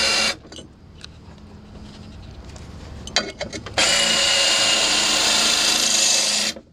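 A porcelain drill bit boring a hole through porcelain tile gives a steady, bright, high-pitched grinding whine that runs alone for several seconds, with a few brief scrapes and clicks just before the drilling settles in.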